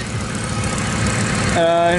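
A 1999 Ford Crown Victoria Police Interceptor engine turns over and settles into a steady, rumbling idle close by, with a low continuous drone.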